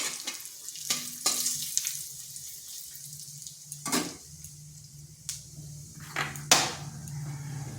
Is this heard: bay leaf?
yes